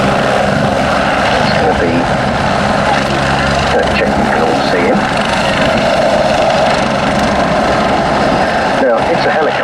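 A Belgian Air Force AW109 helicopter taxis at an airshow at RAF Cosford, its loud, steady engine and rotor roar filling the whole stretch while an announcer talks over it.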